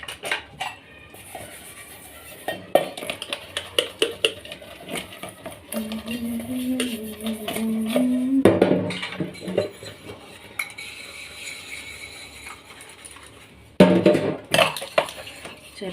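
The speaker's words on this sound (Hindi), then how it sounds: "मैं कर लूँ बर्तन साफ" Dishes, pots and utensils being washed by hand, with steel clinking and scraping in uneven bursts over running water, fairly close and with no talking.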